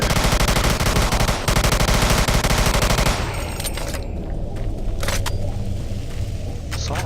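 Rapid automatic assault rifle fire from Doom 3 VR, loud sustained bursts for about three seconds, then stopping abruptly into rumbling game ambience with scattered clicks and impacts.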